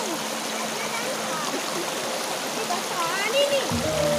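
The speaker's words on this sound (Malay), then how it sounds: "banyak air yang cepat" A fast-flowing mountain stream on the Mount Seulawah Agam trail rushes in a steady, broad hiss of splashing water close by, while voices call out faintly over it.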